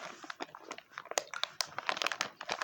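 Plastic packaging of supermarket çiğ köfte being torn open in a hurry, with close rapid crinkling and crackling bursts, irregular and busy, and no talk over it.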